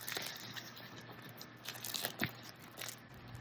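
Crisp sourdough crust crackles and crunches up close as a knife saws into the loaf, a quiet series of irregular snaps and scrapes.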